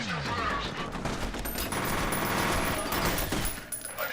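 Rapid, dense gunfire from the first-person shooter F.E.A.R. rattles nonstop at close range, loud and continuous with overlapping bursts throughout.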